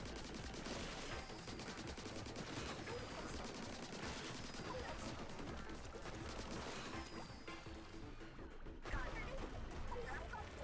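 Dense volley of missile launches and explosions in the Splatoon 3 story mode in Alterna, a loud continuous barrage with layered blasts and game music throughout.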